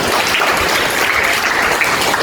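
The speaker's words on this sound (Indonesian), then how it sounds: "Ya, beri tepuk tangan." A classroom of students claps together after a classmate answers, a loud, busy burst of hand-clapping that runs steadily for a couple of seconds with no talking.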